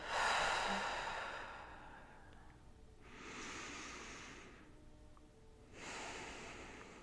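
Slow, deep breaths during a guided meditation, three long airy exhales or inhales spaced a few seconds apart, close and soft, with no talking.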